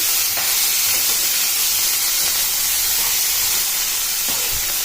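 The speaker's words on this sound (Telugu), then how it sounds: "శనగలు వేసి పెట్టుకున్న తర్వాత ఒకసారి బాగా కలుపుకొని పెట్టుకోవాలి" Bengal gram chickpeas stirred in a pan for a simple prasadam offering, giving a steady broadband hiss with a few soft scraping strokes, close and continuous with no voices.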